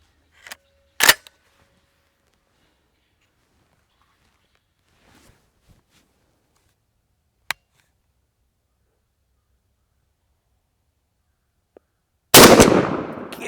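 A 3.5-inch Winchester Super X 00 buckshot shotgun shell fires outdoors in one loud sharp report, with a few faint clicks and handling noises afterward, then a sudden burst of loud noise at the very end.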